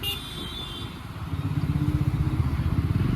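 Triumph 400 motorcycle engine revving up under acceleration, a steady loud drone that climbs and pulses harder in its second half, with no talk.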